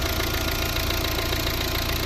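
A steady, rumbling 1.6-litre D2 diesel engine of a 2014 Volvo V60 idling up close, with a constant knocking chug and no other sounds.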